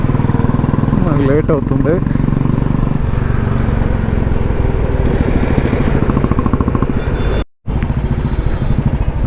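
A motorbike rides through dense city traffic near a college in Bangalore, its engine droning loud and steady close by with a brief dropout near the end, while a rider talks over it.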